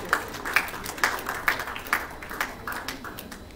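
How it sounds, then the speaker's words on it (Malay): Scattered applause at an indoor property-system launch event, fairly faint and distant, with individual claps standing out in a loose rhythm over a soft crowd background. "Kita berikan tepukan gemuruh sekali lagi"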